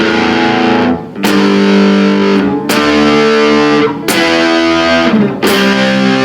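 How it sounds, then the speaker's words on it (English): Loud distorted electric guitar power chords, struck about four times in a steady rhythm, each chord ringing out heavily before the next. "power chords. Like I said, they sound good on distortion."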